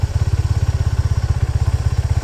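A Suzuki Gixxer SF 250 motorcycle idles close by with a freshly welded, previously broken silencer, putting out a steady, rapid low thumping exhaust pulse that cuts off sharply at the end.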